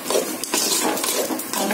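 A spoon stirs bottle gourd kootu with ground coconut and fennel in a pan, giving a steady, close run of soft scraping and clinking with no voices.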